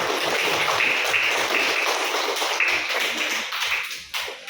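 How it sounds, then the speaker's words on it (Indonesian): A group claps hands in a lively, fast burst of many overlapping claps that carries on steadily and then trails off toward the end. "tepuk tangan dong untuk kita semua"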